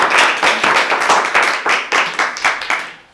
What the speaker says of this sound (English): So round of applause for Lisa.